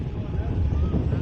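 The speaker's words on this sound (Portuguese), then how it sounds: "Olha o vento, ó." Strong wind buffets a phone microphone outdoors near a river in Itaituba, Pará, a steady low roaring rush that swells and fades throughout.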